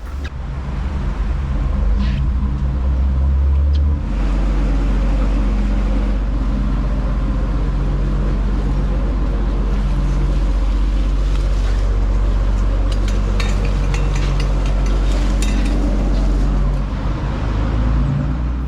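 A boat engine chugs roughly and steadily at low revs, below about 1,000 RPM, a loud, uneven throbbing rumble that continues throughout without a break.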